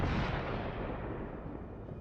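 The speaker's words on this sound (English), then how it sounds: "A powerful explosion from the inside leaves only a charred frame of the formidable tank." A powerful explosion rips through a tank struck by a drone as its shells detonate inside, a single loud broadband blast that rumbles and slowly decays over two seconds.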